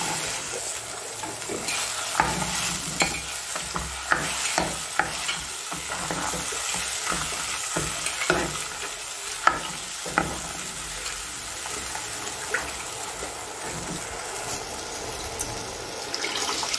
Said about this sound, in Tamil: புளி கொச்சி வந்து பாருங்கள் நல்லா கொதிக்குது